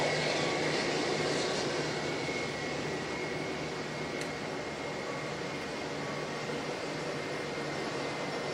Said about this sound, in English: Jetstar 233 just starting up.